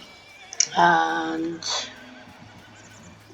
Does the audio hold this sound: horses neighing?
yes